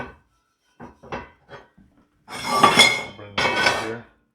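Oiled rag rubbed over a cast iron pan, scattered soft scuffs and taps followed by two louder, longer bursts of rough wiping, close up with no talking.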